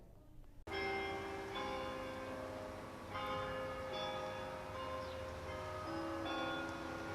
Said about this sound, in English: The sound of church bells across Indiana is a familiar one.